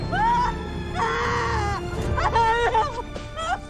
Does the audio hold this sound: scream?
yes